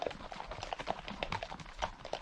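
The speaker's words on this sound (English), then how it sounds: "And here goes the horses off to do some trekking" A line of trekking horses, led by a rider, walks past a field campsite, hooves clip-clopping in a steady, uneven patter of many overlapping steps at moderate distance.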